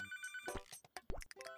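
A phone ringing in the restaurant game Papa's Freezeria, a bright melodic ringtone chiming in short bursts over busy game effects, fairly quiet, with no talking.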